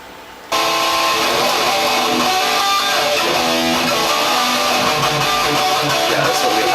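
Distorted guitar loop kicks in abruptly after a brief quieter lead-in, then holds a loud, thick, saturated sustained tone with shifting chords to the end.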